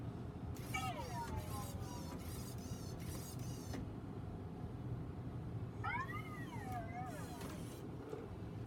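A Himalayan cat meows several times in two clusters of drawn-out, wavering calls, close and clear over a steady low background hum.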